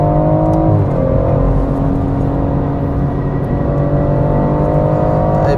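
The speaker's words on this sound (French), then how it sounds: "Ah, le bon bruit de turbo de la Mégane RS." A Renault Mégane RS turbo engine on the Nürburgring gives a steady, loud, close drone with a whirring edge and slight shifts in pitch, heard alone without speech.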